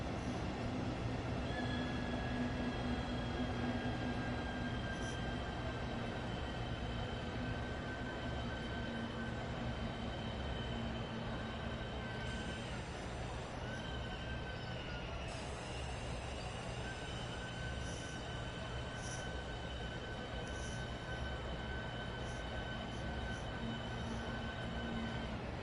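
A simulated train in Train Sim World 3 running past Eastleigh, a steady rumbling roll of wheels and motors with faint tonal whines, continuous and moderately distant throughout.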